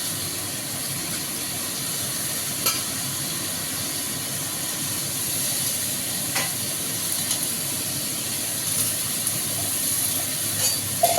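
Sliced eggplant and greens cook in a hot pan with a constant hissing sizzle, close and unbroken, with a few faint stirring knocks and no voices.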